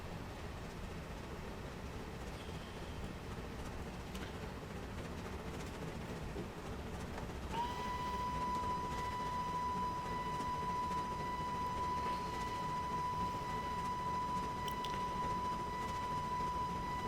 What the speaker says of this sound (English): Gotta hold the whistle till we reach the level crossing.